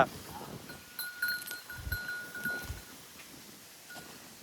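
Goats and cattle being led at a Mattu Pongal village festival in Tamil Nadu, with a goat bleating a few times, light bell-like tinkling and scattered shuffling over quiet outdoor background.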